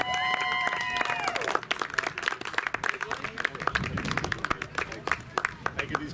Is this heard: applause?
yes